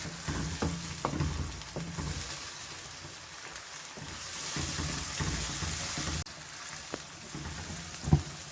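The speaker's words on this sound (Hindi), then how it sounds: "दो 3 मिनट हो गए अदरक लहसुन को भूनते हुए प्याज के साथ" Ginger garlic paste and onion fry in a pan for a mutton balti gosht, giving a steady close sizzle and crackle with occasional stirring scrapes and clinks, no talk.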